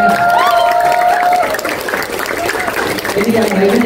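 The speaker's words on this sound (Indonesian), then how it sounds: "Kasih semangat, kasih tepuk tangan." An audience at a class on the Amtsilati method breaks into sustained, fairly loud applause, with crowd voices and some cheering mixed in over the clapping throughout.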